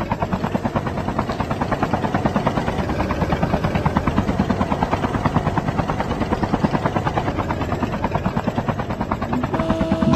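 A helicopter in Call of Duty Mobile gives off a loud, steady rotor chop, with fast, regular blade thumps layered over a constant engine whine the whole way through and no voices over it.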